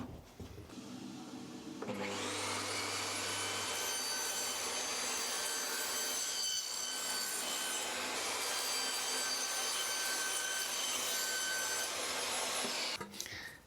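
A large panel is trimmed down with a saw: a loud, steady whine starts abruptly after a short lead-in, runs continuously for about eleven seconds, then cuts off.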